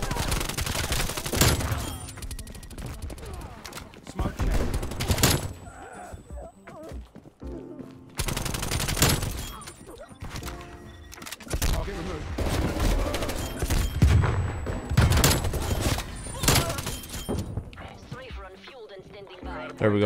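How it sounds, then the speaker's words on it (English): A strafe run scorestreak in Call of Duty: Black Ops Cold War sends loud bursts of rapid aerial gunfire and impacts across the map in several heavy waves, while a player talks over the action. "There we go. Perfect. Strafe run."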